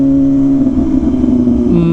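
A Rush car with a custom exhaust revving loudly with a deep, droning exhaust note, holding a steady rumble before the pitch shifts near the end.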